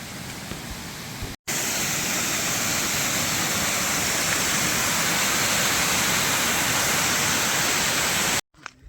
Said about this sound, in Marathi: जाता जाता आपल्याला एक वॉटरफॉल दिसला